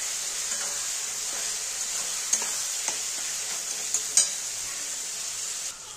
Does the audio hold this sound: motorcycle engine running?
no